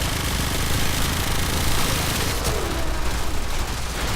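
Supra Vandal gunfire in Warframe, a dense continuous stream of rapid shots that holds steady and loud for the whole stretch, alone without voices.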